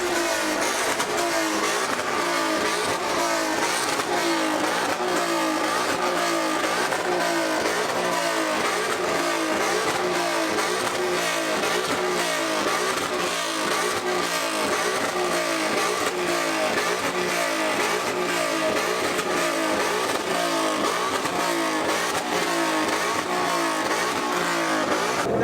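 At a large car meet, a car engine revs hard and repeatedly in a steady, pulsing roar. It is loud and close, continuous for the whole stretch, with crowd noise mixed in.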